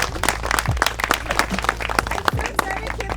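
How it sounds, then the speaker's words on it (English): A crowd of about 42 people applauding at a dinner event, with dense, continuous clapping filling the room, fairly close and loud. "42 people are clapping."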